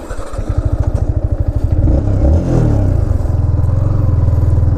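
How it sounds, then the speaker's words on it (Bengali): Yamaha MT15 motorcycle being ridden: a rapid, even engine putter close by that swells into a revving surge midway, then settles back to a steady throbbing drone. "আমার বাইকটা ও চালাচ্ছে"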